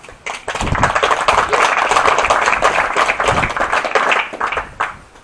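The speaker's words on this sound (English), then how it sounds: "All right, big round of applause." Audience applause at a prone rifle shooting competition, a clear burst of clapping that swells quickly, holds for several seconds, then thins out and fades.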